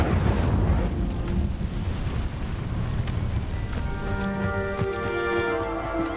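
Incendio fire spell in Hogwarts Legacy erupts in a loud whooshing fiery burst, then fades into a crackling, rain-like hiss with ringing magical tones near the end, no talking.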